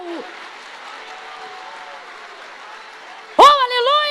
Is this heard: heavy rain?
no